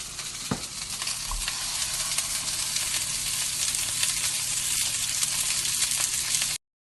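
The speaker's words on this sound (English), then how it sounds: "Now we're going to sear the burgers." Cheeseburger patties sear in a hot pan, making a loud, dense, continuous sizzle that holds steady close by for several seconds with no voices, then cuts off abruptly.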